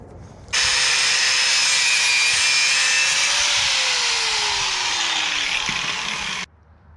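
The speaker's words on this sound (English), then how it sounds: "So I'm probably going to pull the springs out once again and cut another half coil off." A power tool grinds steadily through a coil of a steel car suspension spring on a Ford XG ute for about six seconds. The loud, continuous whine cuts off abruptly, and no one speaks.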